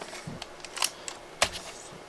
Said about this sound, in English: That's how you do the shutter.